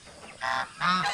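A goose gives two loud, close honks in quick succession with no speech over them.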